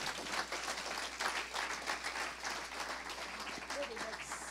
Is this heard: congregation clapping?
yes